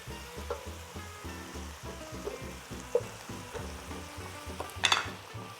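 Fish stew with salmon and shrimp is stirred in a pot, a soft bubbling sizzle with rhythmic scraping strokes and a sharp clink near the end, close and moderately quiet.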